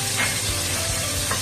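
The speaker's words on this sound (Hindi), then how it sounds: "हम इन्हें थोड़ा सा फ्राई कर लेंगे जिससे कि अच्छी तरह से लाल हो जाए" Garlic cloves and green chillies frying in oil in a pan make a close, continuous sizzle with a few louder spits and crackles along the way.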